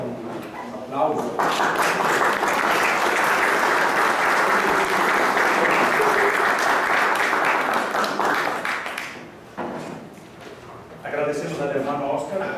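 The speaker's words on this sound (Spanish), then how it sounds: "Vamos a acoger a Franz con un aplauso." Audience applause welcoming Franz Hinkelammert at a seminar on capitalism as religion: a loud, dense round of clapping that swells and holds for several seconds, dips briefly, then resumes with a voice emerging near the end.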